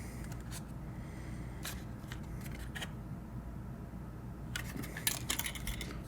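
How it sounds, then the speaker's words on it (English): Several sharp snips and crinkly rustles of plastic, close by, in short bursts with pauses between them and no talking. "Go ahead and get these scissors out again."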